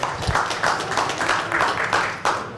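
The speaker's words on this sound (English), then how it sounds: "Everyone give a round of applause for coming on." An audience at an in-person winter forecast seminar in Bradley Beach claps for a volunteer, a short round of moderately loud, steady applause from a small crowd.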